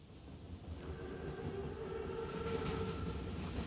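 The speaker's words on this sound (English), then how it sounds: "Train's right on time. Biggest train I've ever seen." A large German armored train from a Call of Duty WW2 mission rolls along at moderate distance, a steady low rumble of wheels and cars with faint metallic squeal, no talking.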